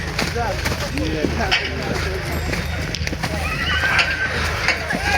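A pair of horses whinny and snort nearby while several people talk and call out over a busy outdoor background at a horse event in Boikivshchyna.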